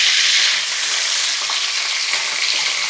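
Ground spice paste sizzles loudly in hot oil with curry leaves in a kadhai, a dense, continuous frying hiss heard up close with no talking.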